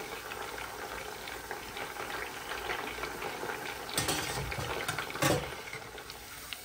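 Pork pieces fry in hot oil, giving a steady, close bubbling sizzle that swells briefly near the end, with no talking.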